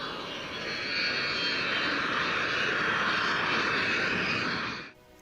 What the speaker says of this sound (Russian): Тут взлетают самолеты, поэтому любители селфи могут сделать здесь отличный кадр.